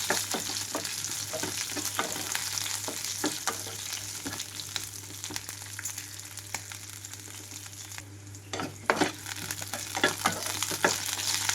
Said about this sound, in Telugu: రెండు నుంచి మూడు నిమిషాల పాటు పచ్చిమిరపకాయలు కలుపుకుంటూ వేయించుకోవాలి